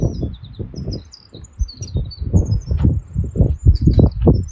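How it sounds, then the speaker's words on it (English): Birds sing in the woods along the Appalachian Trail, thin high chirps and short trills scattered throughout over a steady low rumble of wind. "Birds are singing."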